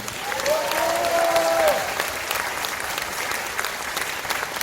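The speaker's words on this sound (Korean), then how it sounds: "큰 박수 한번 보내주십시오" An audience at a launch ceremony for the 2022 Yeongju World Punggi Ginseng Expo bursts into applause, a dense wash of clapping that swells for about two seconds, then thins into scattered claps.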